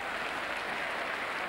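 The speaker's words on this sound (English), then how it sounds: "Nonetheless, merits that applause." Steady crowd applause fills a football ground during a West Ham United versus Ipswich Town match in the 1985-86 season, continuous and broad with no clear peaks.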